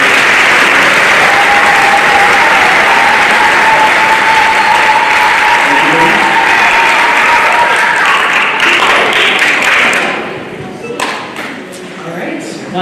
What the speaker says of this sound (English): So if you would join me please in a round of applause for Ms. Kane and Ms. Cole.